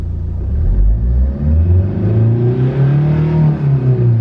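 A Tata Safari Storme diesel SUV, recently decarbonized, revs and accelerates, its deep, loud engine rumble climbing steadily in pitch as the revs build, close and continuous with no talk.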